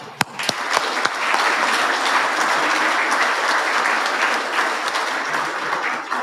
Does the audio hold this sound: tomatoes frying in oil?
no